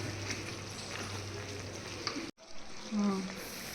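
Shrimp and lentil dumplings being stirred in a hot pan, a steady low sizzle with soft scraping, briefly cut off before resuming with a faint tonal hum.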